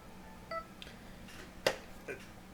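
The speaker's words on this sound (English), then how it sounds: "Phone went off because I'm a busy guy today." A mobile phone notification goes off with a few short electronic beeps and tones, spread across a couple of seconds at moderate volume over a faint room background.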